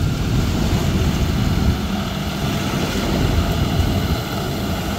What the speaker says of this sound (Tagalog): nandito rin po yung traktora na siyang nagkakalaykay po ngayon dito sa Dolomite Beach